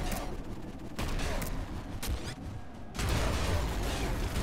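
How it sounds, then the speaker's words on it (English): Dense, rapid bursts of explosions and gunfire in the roguelike game Nuclear Throne roll on continuously, loud and busy, with a brief lull before the barrage intensifies again. "there was a lot of explosions there"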